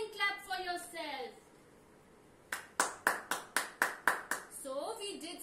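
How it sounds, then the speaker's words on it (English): A group of children claps together in a classroom, a burst of about eight quick, sharp claps in a steady rhythm between an adult's spoken instructions, which come before and after. "Now again clap for yourself."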